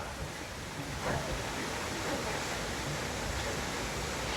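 A waterfall on the island of Corsica, a constant rushing roar of falling water, close and fairly loud, unbroken throughout with no voices.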